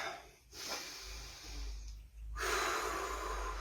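Deep breaths taken during a slow sway-and-stretch movement routine, with airy inhales and exhales rising and falling across a few seconds, close and soft, with no talking.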